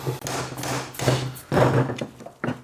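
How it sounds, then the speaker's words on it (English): A slide hammer knocks a rear pivot bearing out of a full-suspension mountain bike frame: about four sharp, close metallic knocks spaced irregularly, each followed by a brief ringing tail. "So I use that slide hammer, connect it in here behind the first bearing."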